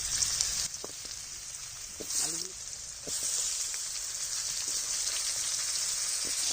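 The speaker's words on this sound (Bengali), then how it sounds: "আলুগুলো হালকা ভেজে নিয়েছি" Potatoes fry in oil with bay leaf and cumin, giving a steady, dense sizzle with scattered small pops and a faint voice-like murmur partway through.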